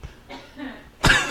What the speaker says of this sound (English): She's coughing as she coughs in the background.